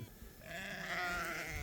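One sheep lets out a long, wavering bleat at moderate distance in an open field, the call swelling and holding without any talk over it.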